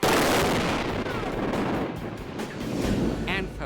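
A low-speed explosive charge such as dynamite or ANFO detonates with a deep, throaty boom that roars loud and broadband through the whole clip, rumbling on as it decays, with no talking over it.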